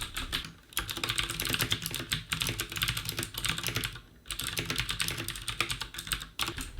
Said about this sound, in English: keyboard click sounds like a typewriter